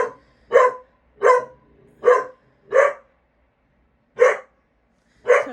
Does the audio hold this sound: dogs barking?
yes